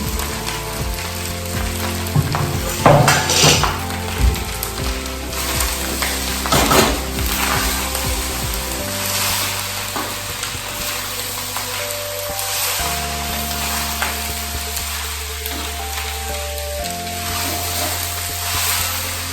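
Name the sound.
chopped broccoli frying and stirred in a pan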